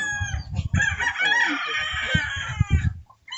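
A rooster crows loudly and close by, a long drawn-out call with clucking and farmyard noise around it.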